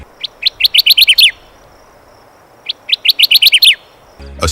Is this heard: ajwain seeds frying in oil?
no